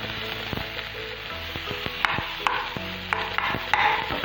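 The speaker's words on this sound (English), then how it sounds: "Now add the potatoes and roast them for some time." Potatoes roasting and sizzling in a pan with masalas and roasted onion for an aloo frankie, a steady fry with scattered sharp clicks and scrapes of stirring, close and alone.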